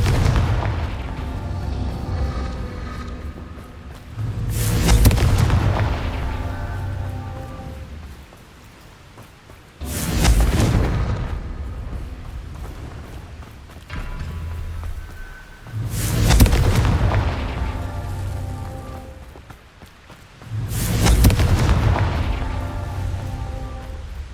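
Confringo blasting spells in the Hogwarts Legacy video game erupt as five loud booming explosions, each a sharp broadband burst with a decaying rumble, spaced roughly five seconds apart over a low background.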